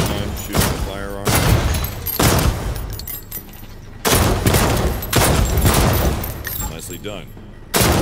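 Firearm shooting in the VR game Defector, loud rapid bursts of gunfire coming in several separate volleys with short gaps, a voice speaking briefly between the shots.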